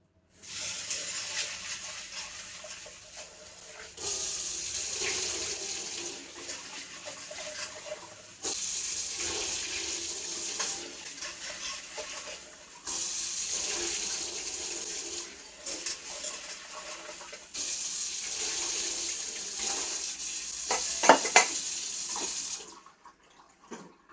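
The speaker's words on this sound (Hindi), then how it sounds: "सबसे पहले मैं चने की दाल को बहुत ही अच्छी तरह से वॉश कर लूँगी।" Chana dal (split chickpeas) is rinsed under a running kitchen tap, the water gushing in several long bursts separated by short pauses, with a soft clatter of grains and vessel near the end.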